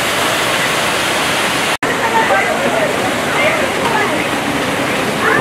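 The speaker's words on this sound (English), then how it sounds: "You can go underneath the waterfall if you choose to." A zoo waterfall in the elephant enclosure pours with a loud, steady roar of rushing water, close by and continuous, briefly cut out once near the start.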